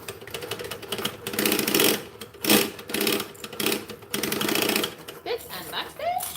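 A sewing machine stitches forward then reverses for a back stitch, running in several uneven whirring bursts with brief pauses, close and fairly loud, with a voice speaking over parts of it.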